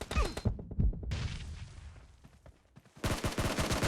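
Rapid bursts of automatic gunfire in PUBG, loud and close, fired in quick volleys with a short lull before another dense stream of shots.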